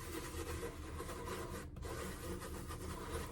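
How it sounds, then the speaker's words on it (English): Residue remover being rubbed onto a plastic container with a cloth, a steady close scrubbing rasp that continues almost unbroken with one brief pause midway, no talking. "we're going to give that a rub in"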